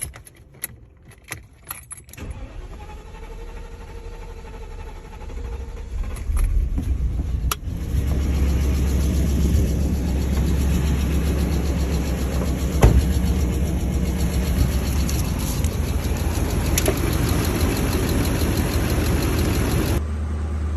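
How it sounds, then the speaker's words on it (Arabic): Keys jingle, then a car that had stood unused for 16 years cranks and catches, settling into a steady, fairly loud idle with a low rumbling hum and occasional clicks, with no voices over it. "انشب السيارة."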